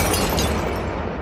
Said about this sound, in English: At that instant, a thunderous explosion blows out the front windows.